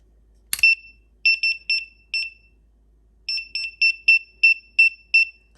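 A KAXYUYA bug detector set to low strength gives short, high-pitched electronic beeps after a brief click, first in a group of four, then after a pause in a faster run of about eight, with silence between.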